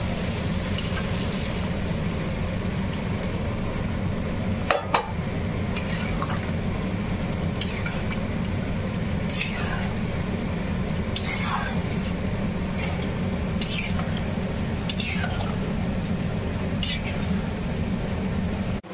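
Water poured into a pan of frying katla fish curry, a steady loud sizzle and bubbling hiss throughout, broken by occasional sharp utensil clinks against the pan.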